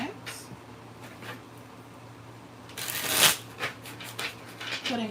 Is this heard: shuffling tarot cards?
yes